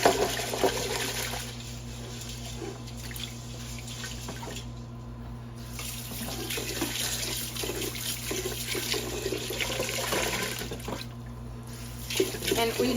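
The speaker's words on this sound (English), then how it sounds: "Do one more rinse." Tap water running steadily into a sink while rice is rinsed, a continuous splashing hiss with swishing and brief dips, a voice talking faintly underneath.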